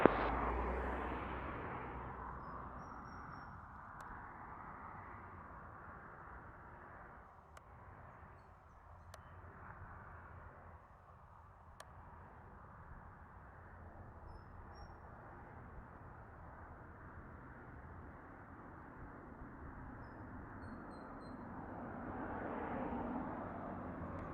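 A Southwest airliner takes off at Montego Bay, Jamaica: a broad, distant jet roar swells and fades over about twenty-four seconds, then builds again toward the end, with no voices over it.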